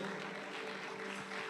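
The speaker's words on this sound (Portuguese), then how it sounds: "dando uma salva de palmas bem forte para Jesus" A church congregation claps together during worship, a continuous dense wash of applause with a steady tone humming underneath.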